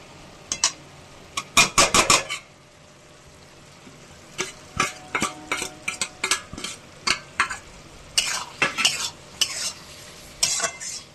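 Fish curry with radish being stir-fried and dried out in an open pan, rapid bursts of spatula scraping and clattering over a soft sizzle, coming in irregular clusters of strokes.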